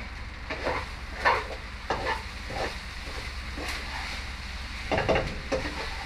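Quiet, steady sizzling of food frying in a pan, with occasional scrapes and clinks of a utensil stirring.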